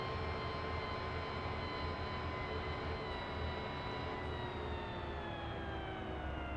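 A tractor in Farming Simulator 17 rolls downhill with a steady, even engine rumble and a faint whining tone that slides slowly lower, constant and moderately quiet throughout, with no talking.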